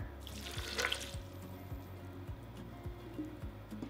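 Water poured into a blender splashes briefly near the start, then settles into a quieter trickle with faint drips in a calm indoor space.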